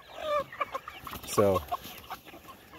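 Chickens clucking close by, a few short bursts and one louder squawk, with a brief spoken word at the start.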